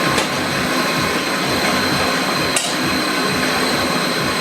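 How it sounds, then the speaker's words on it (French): A blender whirs steadily while mixing peas into a Creole sauce, a loud continuous motor drone running the whole time with one brief sharp knock partway through. "On est en train de blender."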